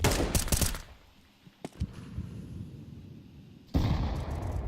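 Sustained spam of rapid gunfire in a Counter-Strike match, loud dense bursts at the start, a quieter stretch with a few isolated shots, then heavy firing resuming near the end.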